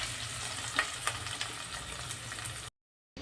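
Cumin and mustard seeds sizzling in hot oil at the start of a curry, a soft steady frying hiss with a few small pops, cut off by a short silence near the end.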